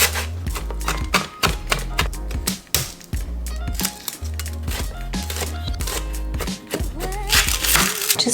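Lemongrass stalks being chopped with a knife on a cutting board, a rapid run of sharp, close thuds in quick uneven rhythm, loud and continuous.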